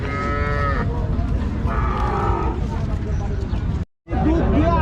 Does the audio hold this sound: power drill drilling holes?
no